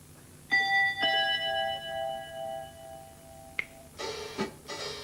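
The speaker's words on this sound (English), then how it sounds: "tubular bells don't half appeal" Tubular bells are struck and ring out with a long, sustained metallic tone, followed by a sharp strike and a brief burst of brighter clanging hits near the end.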